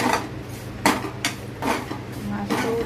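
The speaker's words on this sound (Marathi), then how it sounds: "ह्या कढईमध्ये शेवया चांगल्याशा हलवून घ्यायच्या, चांगल्या तुपामध्ये भाजून घ्यायच्या" A metal spoon scrapes and clanks against a kadhai while vermicelli is stirred and roasted in ghee, with irregular clinks and scrapes at close range.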